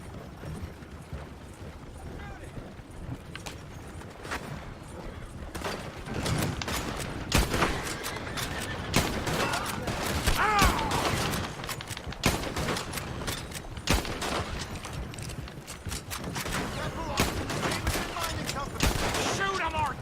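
Rapid bursts of gunfire in Red Dead Redemption 2 crack out over twenty seconds, sharp repeated shots of varying distance layered in an ongoing firefight, with voices talking amid the shooting.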